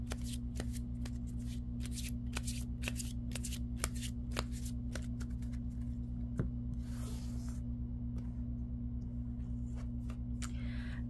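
A tarot deck is shuffled in a long run of crisp riffles and soft card slaps, repeating at a brisk, uneven rhythm close up over a steady low hum.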